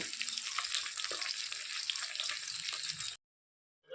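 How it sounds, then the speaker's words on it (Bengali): Fish pieces fry in hot oil in a pan, a close, steady crackling sizzle that cuts off abruptly near the end before briefly resuming. "এখন আমি নামিয়ে নিব আর বাদ বাকিগুলো ভেজে নেব"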